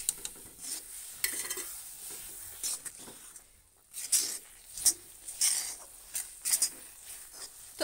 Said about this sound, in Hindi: ये जो हमने तिल भुना था, ये देखिए इस तिल को इसके अंदर डाल देंगे और इसे बहुत जल्दी जल्दी चलाएंगे